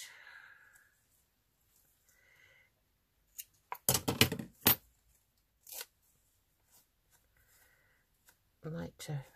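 Scissors snipping through a piece of green silky fabric, a quick cluster of crisp close cuts in near silence, followed by a few softer isolated snips.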